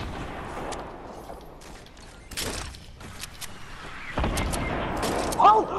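Gunfire in Fortnite, scattered shots and bursts at mid distance mixed with game effects, with players talking over the action.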